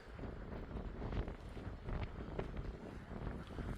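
Wind blows across a misty mountain trail on the Appalachian Trail in North Carolina, a continuous gusty roar buffeting the microphone, loud and close with no talking.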